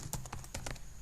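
Rapid, close keystrokes on a computer keyboard, around half a dozen quick clicks in about a second, fairly quiet with no talking.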